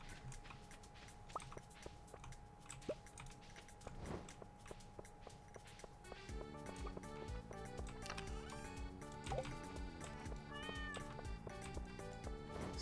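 A cat meows in the Stardew Valley video game, several short meows over cheerful game music with soft footstep-like taps, moderately loud and alone without talk.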